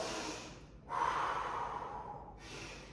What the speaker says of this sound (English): nice long exhalations in through the nose and out through the mouth